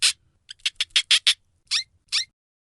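A domestic hamster gives a string of about eight short, high, scratchy squeaks in irregular bursts, close and fairly quiet, with nothing else heard.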